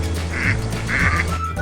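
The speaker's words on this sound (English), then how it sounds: "The mandarin duck. A very colourful duck with a beautiful crest on top of its head" Mandarin duck quacking in two clear, evenly spaced calls, each about a quarter-second long, close and fairly loud over a steady low background hum.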